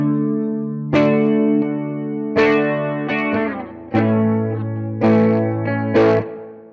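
Electric guitar through the clean channel of an Orange Crush Pro 120 amplifier, playing a run of ringing chords and sustained notes with sharp strums about once a second, loud and alone with no talk.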